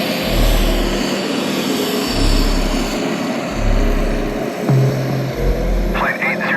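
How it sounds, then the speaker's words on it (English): Airplane engines drone loudly and continuously as the aircraft prepares for takeoff, heard from inside the cabin as a low steady roar with pulsing swells, while voices talk over it. "please prepare for takeoff."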